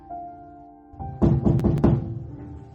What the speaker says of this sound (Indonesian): Ia mendengar suara ketukan pintu di jam 11 malam ini.